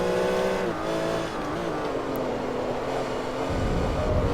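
GT2 BMW race car in Forza Motorsport 3 holding a loud, steady engine drone with shifting pitch as it brakes and turns, a brief tire squeal, close and continuous with no talk.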